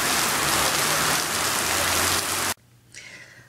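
Torrential rain pours down hard during a storm in Auckland, New Zealand, a loud, dense, steady roar that cuts off abruptly, leaving a quieter background with faint distant sound.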